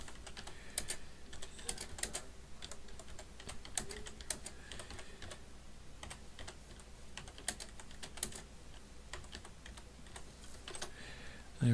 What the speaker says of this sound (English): Type that in there